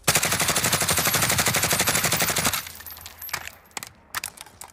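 A Grau 5.56 rifle in a multiplayer video game empties a 30-round magazine in one rapid, steady automatic burst for about two and a half seconds, then a few scattered clicks and handling noises follow.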